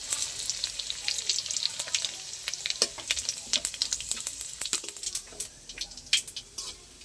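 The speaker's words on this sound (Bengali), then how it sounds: "ফোড়নে দেবো সাদা গোটা জিরে," Whole cumin seeds and two broken dried red chillies sizzle in hot oil in a kadai for tempering, a steady close hiss peppered with sharp crackles and pops that grow denser toward the end, with no talking.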